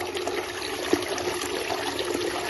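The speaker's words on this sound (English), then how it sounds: "Watch the water pumping again." Water rushes and trickles steadily with a low mechanical hum beneath it, a continuous moderate flow from a 24V 120W brushless DC micro water pump.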